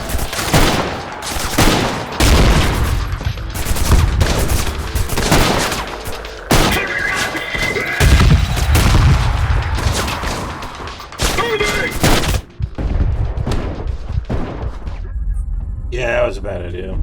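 Heavy gunfire and explosive booms from called-in fire support in the first-person shooter Trepang2, loud, dense bursts and sustained fusillades filling the clip, with the player's voice talking over the combat.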